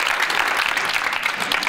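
Studio audience at an iUmor comedy show breaks into clapping, a thick, even wash of many hands that holds steady throughout without a break.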